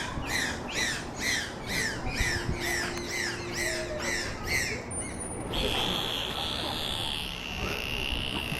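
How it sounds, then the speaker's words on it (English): Two trained dolphins at an aquarium show give a rhythmic series of repeated squawking whistles, about ten evenly spaced calls, followed by a higher sustained whistle, under a faint crowd murmur. "dolphins also have a variety of other vocalizations, and Delilah and Lily have actually been working on a very special song"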